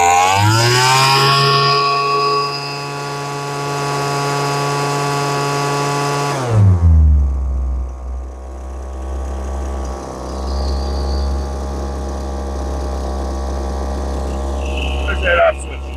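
A Lesco leaf blower with a lean, fuel-starved carburetor roars at high revs, drops sharply to a low rough idle, then gives a few brief blips of throttle, loud and close.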